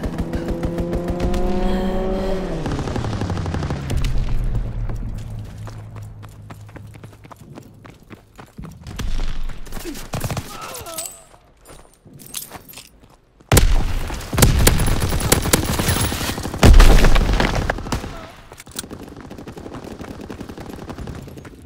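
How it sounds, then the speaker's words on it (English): Strafing-run gunfire during a Team Deathmatch match of Call of Duty WWII on the Sainte Marie du Mont map, heard as loud bursts of rapid shots and booming impacts after a descending engine whine, with a couple of quieter gaps between bursts. "Enemy strafing run, inbound!"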